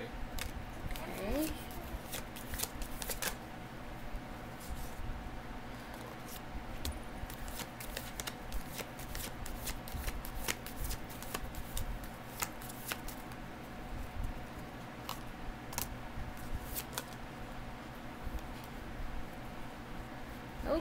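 Tarot cards being shuffled during a horoscope reading, soft repeated riffling and flicking of the deck close by, continuing under a quiet voice.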